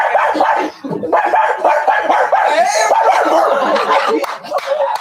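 A young male streamer imitates a dog with his voice, letting out a rapid string of loud, close, rough barks and yips mixed with laughing, almost without a break for five seconds.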